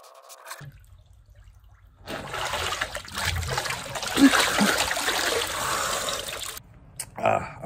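Water in a cold plunge tub trickles and splashes steadily at close range for several seconds, beginning after a quiet stretch and settling again near the end.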